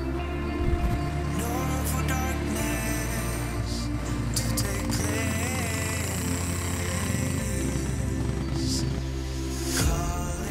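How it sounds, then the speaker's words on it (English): A 20-year-old Kawasaki Prairie 300cc two-wheel-drive ATV engine runs steadily and close by on a farm, holding a loud, continuous low drone with slight shifts in pitch, and no voices over it. "That was the sound of a majestic 20-year-old Kawasaki Prairie."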